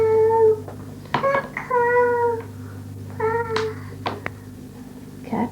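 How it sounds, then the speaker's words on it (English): A cat meowing several times in a row, clear and fairly close, with a steady low hum underneath and a few brief knocks between the calls. "Cat, yes."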